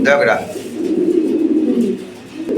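Pigeons kept for sale in pairs coo close by in a low, throaty burst, while someone talks over them.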